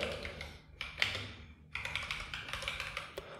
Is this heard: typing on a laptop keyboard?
yes